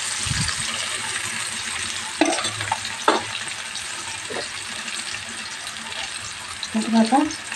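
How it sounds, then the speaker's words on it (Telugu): Chopped onions dropped into hot oil in a pan, giving a steady broadband sizzle with a few louder stirring clatters and bursts of frying, close and continuous throughout. "ఆయిల్ వేడైన తర్వాత కట్ చేసి పెట్టుకున్న ఉల్లిపాయలు వేస్తున్నాను"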